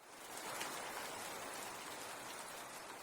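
Steady, dense crackling hiss of chicken frying in oil, even and unbroken, with a rain-like patter and no voices.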